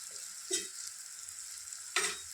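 Curry is stirred in a pan over a soft low sizzle, with two distinct scraping strokes of the spoon, one early and one near the end, close but quiet.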